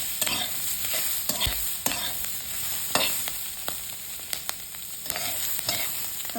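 Cauliflower and other vegetables roast in oil while being stirred, with a steady sizzle broken by sharp scraping clacks of the spoon against the pan at irregular intervals, close and clear with no talking.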